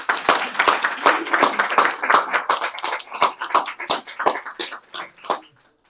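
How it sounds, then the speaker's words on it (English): Audience applause at a community newspaper gathering about the Falls Church News-Press, dense hand clapping from a crowd indoors that holds steady for several seconds, then thins out and fades near the end. "So I'd like to give one more round for Nick. Applause for what he's done."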